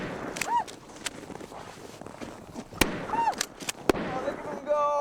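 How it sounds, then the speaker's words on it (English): Blank cartridges fired in the Arctic to scare polar bears give two sharp, loud bangs a second apart, with people talking and whistling sounds around them. "They're blanks that make a loud bang to scare the bears away."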